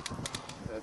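An airsoft sniper rifle fires once, a sharp loud crack right at the end after a short stretch of quiet background chatter.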